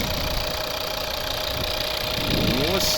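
A 2011 Volvo V50 D3 2.0-litre five-cylinder diesel engine idles with a steady, even rumble and a constant whine, close by; a voice speaks briefly near the end.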